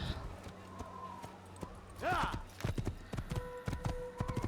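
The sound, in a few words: horse hooves in video game Assassin's Creed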